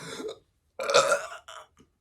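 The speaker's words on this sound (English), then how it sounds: "That was one big healthy belch." A single loud, drawn-out burp, preceded by a brief vocal sound and trailing off with a short final grunt, in a quiet room.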